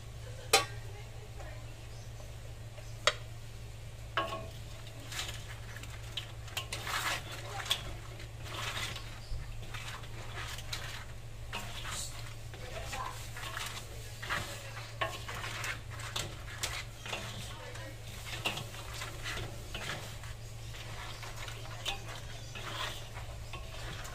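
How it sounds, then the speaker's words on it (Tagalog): Crab being stirred into a buttered garlic sauce in a pan, with scattered clinks and scrapes of a utensil against the pan over a steady low hum, fairly quiet and continuous. "Lagyan na natin yung crab. Tapos, haluin na natin."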